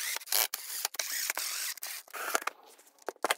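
A numbered attachment bolt with a washer is tightened into a Yaheetech queen-size metal bed frame with a hand tool, giving a rapid series of close ratcheting clicks and grinding bursts broken by short pauses, with no talk.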